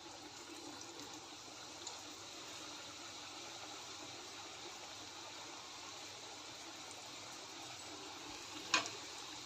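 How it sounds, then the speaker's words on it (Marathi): Shankarpali dough pieces frying in hot oil in a kadhai, a steady close hiss and soft bubbling sizzle that runs evenly throughout, with one brief clink near the end. "कढईमध्ये तेल गरम झालेलं आहे चांगला आता ह्यामध्ये मी शंकरपाळ्या घालते"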